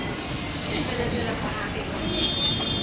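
Steady rumbling and rattling of a moving LRT light rail car in Manila from inside, with a faint high squeal of wheels on track.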